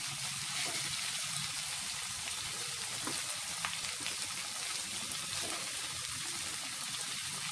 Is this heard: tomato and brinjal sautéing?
yes